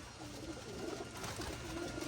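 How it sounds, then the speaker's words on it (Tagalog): Soft, low cooing from pigeons repeats in short phrases, steady and fairly quiet, over a constant background hum. "ito na lang yung mga ibon natin"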